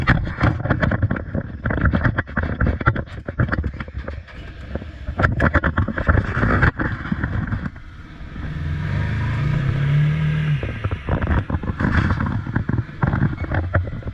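Clattering and rustling come first, then a 2019 Can-Am Maverick Trail 800 side-by-side's engine catches and runs with a low, steady idle for a couple of seconds.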